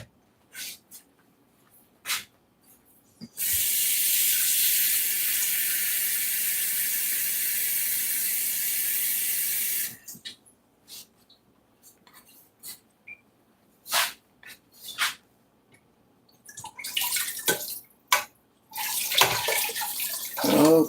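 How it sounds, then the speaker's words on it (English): Water pours steadily into a pot of onion gravy for several seconds, a loud continuous splashing stream, followed by scattered clinks and soft handling noises with no talk. "So I'm going to add just a little bit more water to this, just a little bit, maybe another bowl full."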